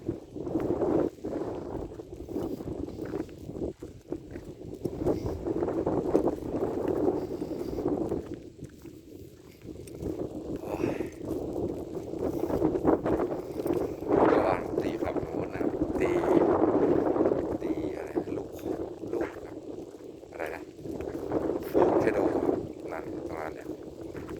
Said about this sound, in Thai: พายก็ไม่ไปหรอกนี่ลมแบบนี้